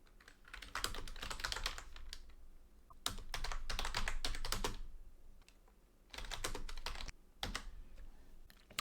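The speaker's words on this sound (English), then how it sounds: "So of course you translate by typing your text." Text is being typed on a computer keyboard for translation work. Bursts of fast, close clicking keystrokes come in three separate runs with short pauses between them, and no one speaks.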